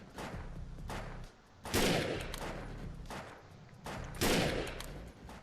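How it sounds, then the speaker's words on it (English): Bolt-action sniper rifle gunfire in the video game Defiance: two loud, sharp shots a couple of seconds apart, each with a booming tail, over a steady layer of game ambience. "if you're going to go with the sniper rifle to go with the bolt action, which is what we got here"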